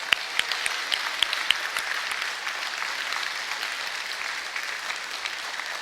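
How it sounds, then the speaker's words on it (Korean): A church congregation applauds, a dense and steady patter of many hands clapping together that carries evenly for several seconds with no voices over it. "그 은사를 주신 하나님께 영광의 박수 한번 올리겠습니다"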